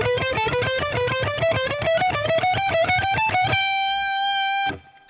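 Distorted electric guitar plays a fast ascending lick up a scale in even, rapid picked notes, ending on a sustained ringing note that is cut off abruptly; loud and close, no talking.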